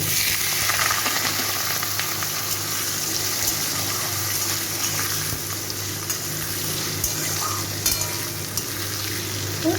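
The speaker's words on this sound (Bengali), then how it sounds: "এই আলুটাকে একটু 5 মিনিট ধরে ভালো করে ভেজে নেব" Small diced potatoes fry in a pan in a home kitchen, giving a steady, dense sizzle that runs unbroken for the full stretch, with occasional faint stirring.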